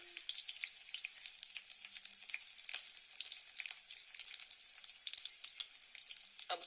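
Garlic and chillies fry in a hot pan with a dense, steady crackling sizzle, close and continuous, with occasional stirring scrapes.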